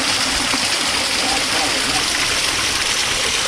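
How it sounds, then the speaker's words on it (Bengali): Clear mountain stream pouring down from above in the hills of Pedong near Kalimpong, a steady broadband rush of flowing water, close and continuous, with no break for the whole stretch. "ওই উপর থেকে স্বচ্ছ জলের ধারা এই যে নেমে আসছে।"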